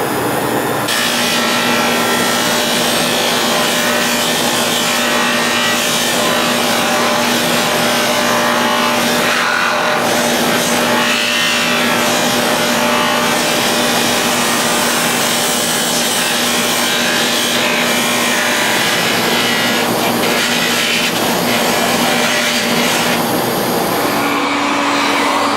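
A modified vintage 1950 Sunbeam Mixmaster runs continuously with a loud, steady motor whir and a constant hum, with no talking.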